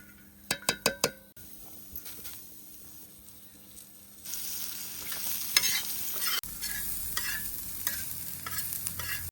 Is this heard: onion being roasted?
yes